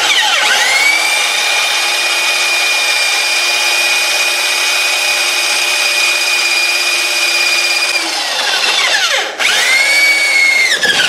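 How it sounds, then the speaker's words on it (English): A right angle drill bores into hard steel for go-kart brake parts, a loud steady whine that holds for about eight seconds, winds down, then spins back up near the end. "So I use a right angle drill to do it."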